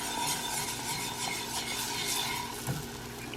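Cheeseburger soup being stirred in a pot as milk is added, a soft, steady bubbling and scraping texture with faint occasional knocks, quiet and without talk.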